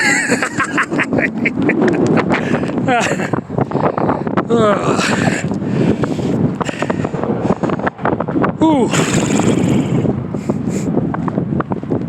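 Strong wind buffets a microphone while a man jogs outdoors, a constant rumbling roar that runs under his continuous talking throughout.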